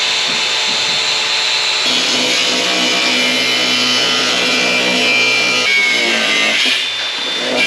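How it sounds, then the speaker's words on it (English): Power tool grinding rusted nuts off bolts on a 1967 Fastback Mustang, a loud continuous close-up whine that shifts pitch as the cut bites, alone without talk. "can you grind them nuts off?"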